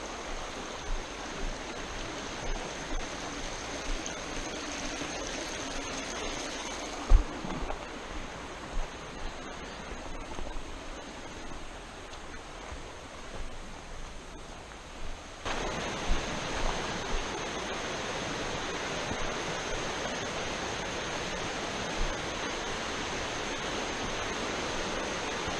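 Continuous rushing water of the Gunpowder River, a steady broadband wash like a fast stream, with a few faint knocks and a slight shift in tone partway through.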